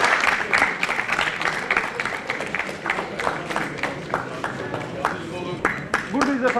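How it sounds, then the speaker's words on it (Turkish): Warm, sustained clapping comes from an audience at a sports awards ceremony, close and busy, with crowd voices and some talk mixed into the applause. "Ve içten ve coşkuyla alkışlıyoruz."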